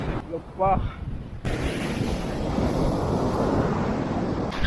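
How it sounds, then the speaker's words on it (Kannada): Ocean surf breaking on the shore at Mangaluru, a steady loud roar of waves with heavy wind buffeting the microphone, after a short voice at the start. "ಅಲೆಗಳ ಸೌಂಡ್ ಅಂತೂ ಜಬರ್ದಸ್ತಾಗಿ ಕೇಳ್ತಾ ಇದೆ ಆ ರೇಂಜಿಗೆ ಅಲೆ ಬರ್ತಾ ಇದೆ"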